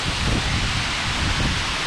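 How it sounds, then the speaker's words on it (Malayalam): Strong wind gusts buffet the microphone at Achankallu Waterfalls in Kasaragod, a loud, rumbling roar with swelling surges over a constant rush. "നല്ല കാറ്റുണ്ട് കേട്ടോ"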